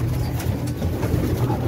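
Young pigeons cooing close by in a loft, soft low throaty coos layered over one another, continuous and fairly loud against a faint background.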